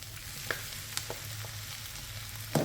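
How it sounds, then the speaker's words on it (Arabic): Small cubes of chicken breast fry with softened onions in a pan, a quiet, steady sizzle with a few sharp utensil taps, and a louder clatter near the end. "غادي نضيفو عليها داك صدر الدجاج"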